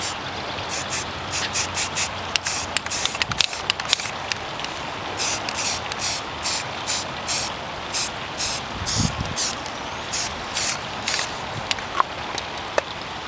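Rapid bursts of aerosol spray paint laying a second coat on an airsoft sniper rifle, a steady train of short hissing sprays, close and fairly loud, with no talking.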